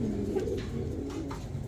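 Pigeons coo in a soft, low, repeated call, close and steady, from a pair of short-beak pigeons in red coloring kept at a pigeon sale center.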